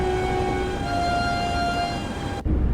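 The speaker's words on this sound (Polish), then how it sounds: "Nawet syrena jest tutaj lepiej zrobiona." Horn of a BR 187 TRAXX 3 electric locomotive in Train Simulator Classic, a sustained steady tone held for over two seconds over rumbling rail noise before cutting off abruptly.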